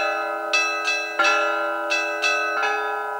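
Siberian-cast church bells in Tattinsky District ring out in a steady sequence of clear, resonant strikes, each tone sustaining and overlapping the next, close and loud.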